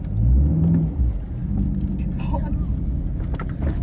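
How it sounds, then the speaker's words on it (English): A car engine revs up loudly with a deep rumble, then settles into a steady growl while people talk nearby. "I'm just gonna rev it."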